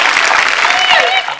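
A studio audience claps on a Telugu TV comedy show, a sustained burst of clapping that fades at the end, with someone talking over it.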